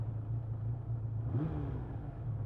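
Engine of a 1979 Honda CBX1000 motorcycle idling with a low steady rumble, rising into a brief rev midway before settling back, heard fairly quietly.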